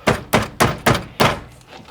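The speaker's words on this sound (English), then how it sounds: "You want to move it side to side, give it a few bangs, that's it, it's loose." A steering wheel on a Honda Civic EK is struck loose by hand, five sharp, evenly spaced thuds close to the microphone, each followed by a short ring-out.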